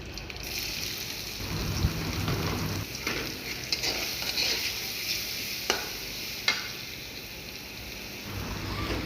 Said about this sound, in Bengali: তারপরে এখন তেল দিয়ে কচুটা বাগার দিব